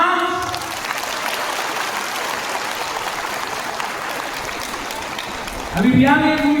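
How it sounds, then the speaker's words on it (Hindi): A crowd at a political gathering claps along with one, two, then three fingers, producing a dense, steady patter of light applause. Toward the end a voice speaks over it. "3 उंगली से ताली मारो"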